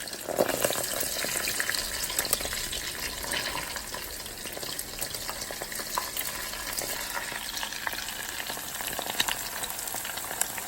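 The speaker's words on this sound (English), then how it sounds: "And I'm going to let that fry for about 2 to 3 minutes until it's golden brown." A crab egg roll fries in hot oil with a steady, dense crackling sizzle that stays even and moderately quiet throughout, with no voices.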